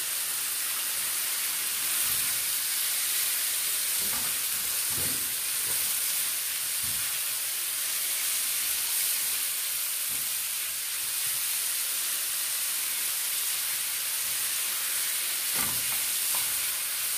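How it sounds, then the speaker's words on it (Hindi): Tikka-spiced chicken topping for a malai tikka boti pizza fries in a pan with a constant broad hiss, like steady steam. A few faint knocks from stirring sound over it. "ये हमारा फ्राई हो रहा है, थोड़ी देर इसको और फ्राई करेंगे हम।"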